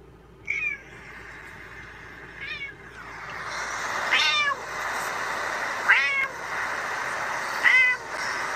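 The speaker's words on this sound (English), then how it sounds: "The same meow, like over and over again" A cat meows five times in a row, loud and close. Each meow is drawn out, coming every second or two over a steady background hum.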